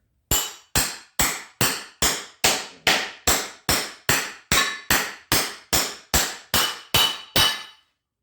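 A hammer strikes railroad spikes being forged into a small DIY anvil, sixteen sharp metallic blows in a steady, even rhythm, each ringing briefly and decaying before the next, close and loud with no talking.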